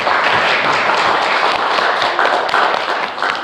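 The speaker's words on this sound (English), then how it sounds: "How about another round of applause?" Dense applause from an audience, steady and loud throughout with many overlapping claps, no voices standing out.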